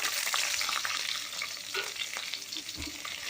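Shallots sizzle in a hot pan for chicken sukka, a steady close frying hiss with occasional stirring scrapes, and no voices.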